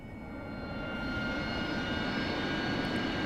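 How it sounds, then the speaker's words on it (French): Loud, steady jet roar of an AV-8B Harrier in a flight-simulator game with the cockpit canopy opened, a dense broadband rumble with thin high whine tones that swells slightly and holds continuously with no talk. "C'est l'avion qui fait le plus de bruit."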